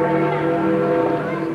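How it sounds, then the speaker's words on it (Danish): A very large church bell in St. Peter's Square in Rome tolls with a deep, resonant stroke whose hum rings on and sustains for the whole short span. "Så ringede pludselig denne meget store klokke med de meget dybe slag."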